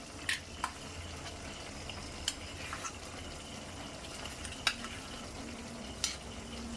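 Poppy seed paste being stirred into mashed potatoes in a pan, a soft continuous sizzle with light scraping and occasional clicks of the spoon against the pan, close and fairly quiet.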